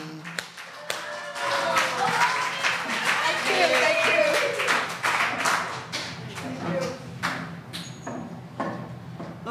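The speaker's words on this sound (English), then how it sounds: "So, give a round of applause to Bonnie." A comedy workshop audience claps for a comedian taking the stage, a moderately dense run of hand claps over murmuring voices and laughter, thinning out toward the end.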